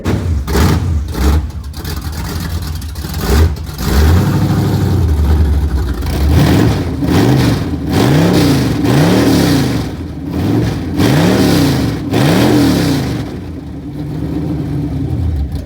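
Chevy with an LS engine, running despite fuel system problems, drives and revs repeatedly, its engine note rising and falling in several loud, close sweeps over a steady low rumble.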